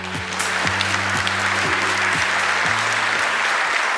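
Sustained, dense applause fills a hall at a Korean government policy briefing as a committee chair is introduced, loud and even throughout, with low musical tones sounding underneath.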